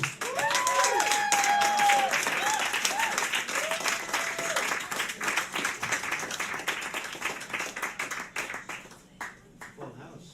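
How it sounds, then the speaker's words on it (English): An audience at a live-streamed poetry show applauds a performer: loud, sustained clapping with a few cheers that gradually thins out and fades over several seconds. "Let's clap him up."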